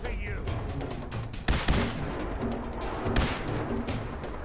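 Gunfire in the video game Fallout 4, a few sharp bursts of shots over a low rumbling game background, moderately loud.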